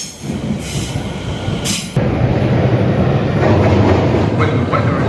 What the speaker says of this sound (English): That was a 19-minute train journey.